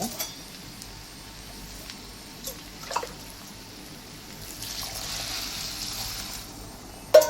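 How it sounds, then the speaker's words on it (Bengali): Hot water poured into a pot of home-cooked khichuri with mushrooms, a faint, steady watery pour that swells slightly toward the end, quiet and without talk. "আমরা এখন এটার মধ্যে গরম পানি দিব।"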